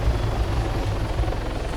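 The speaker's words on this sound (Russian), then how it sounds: "и мягко посадить вертолет" Helicopter landing in the Arma 3 video game, a loud, continuous rotor and turbine roar with a low rhythmic thump, steady and close.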